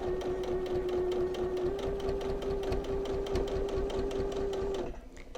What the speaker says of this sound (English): So I try to sew along this edge as close as I can